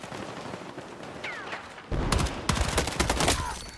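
Rapid SMG fire in Battlefield 6, with dense bursts of close shots that get louder and busier in the second half over steady battlefield noise.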